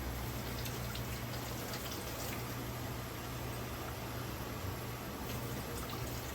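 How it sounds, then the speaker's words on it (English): Hot tap water runs steadily into a pot in a home kitchen while canning peaches, a constant close hiss and splash with no talk. "I'm just going to use hot tap water"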